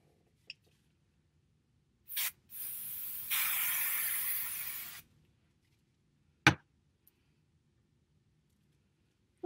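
A quick spritz from a spray bottle onto a wig, then a longer steady hiss lasting a couple of seconds, followed by a sharp tap in an otherwise quiet room.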